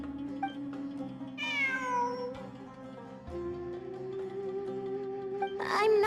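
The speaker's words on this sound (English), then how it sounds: "I'm not hearing things. It really is a cat." A cat in the video game Genshin Impact meows twice, a clear, drawn-out call near the start and another rising meow at the end, over a steady tonal ambient hum.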